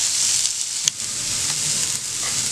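Food for a healthy roast grills in a pan with a little oil, giving an even, soft sizzle throughout, broken by one sharp clink of a utensil.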